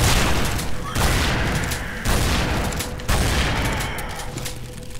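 Lara fires her pistols in Tomb Raider Anniversary in an Egyptian sanctuary: loud booming shots land about once a second, each with a long echoing tail.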